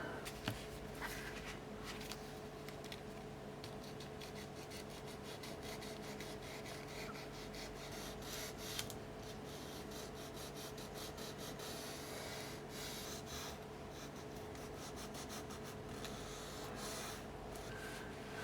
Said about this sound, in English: I will have to use this 150 grit sandpaper to rough up the surface a little bit